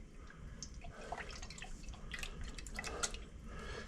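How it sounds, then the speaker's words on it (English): A small splash of milk poured into a pot of canned clam chowder, a faint run of soft liquid drips and trickles over a quiet background, with no speech. "So I'm only going to put a splash in there."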